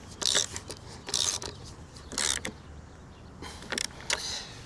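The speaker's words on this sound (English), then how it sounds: "I'm going to use my socket set to wind these in." Socket set winding screws into the timber frame of a backyard sandpit, giving a series of short ratcheting, rasping bursts with brief pauses between them, fairly close and moderately loud, with no talking.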